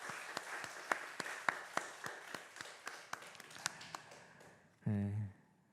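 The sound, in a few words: congregation applauding in church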